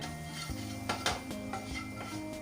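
Spices such as hing, coriander powder, amchur, turmeric, red chilli and chaat masala being stirred and roasted in a pan, with a metal spoon scraping and knocking against the pan at irregular moments over a faint, steady sizzle.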